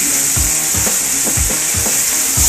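Ribs sizzle on a BBQ grill with a steady, loud crackling hiss and a few soft rhythmic scraping thumps, close up and with no talk.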